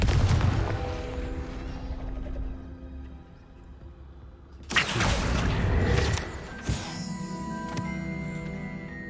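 Casting the Confringo blasting spell in Hogwarts Legacy sets off a sudden loud burst midway, a fiery explosive crack with a crashing tail and a second smaller impact, over game ambience.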